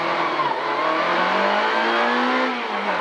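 A rally car launches from the start of a special stage at the Simrishamnsmixen rally, its engine revving loud and close, climbing steadily in pitch through the gears.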